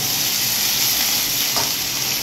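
Water poured into a pan of sarputi fish cooked down with masala and mustard in oil sets off a loud, steady, bright sizzle and hiss that carries on evenly with no voices.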